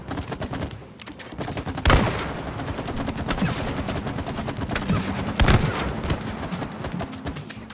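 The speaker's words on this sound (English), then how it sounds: "Can you shoot each one of these, and I'll blow it up." Rapid gunfire rattles steadily in the co-op video game It Takes Two, a dense run of close, loud shots punctuated by two heavier blasts.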